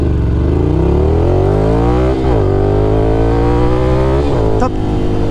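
A Ducati Scrambler Desert Sled motorcycle accelerates from standstill, its engine note climbing steadily through the revs with brief dips at gear changes, loud and close without talk.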